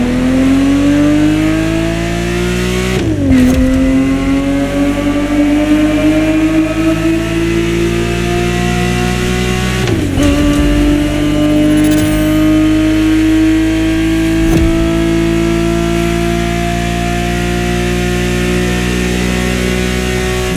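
A Ferrari 365 GTB4 engine in The Crew Motorfest racing game, a 1970s-era car, holds a loud, steady rising drone broken by two sharp gear shifts. Each shift drops the pitch before it climbs again, and no voices are heard.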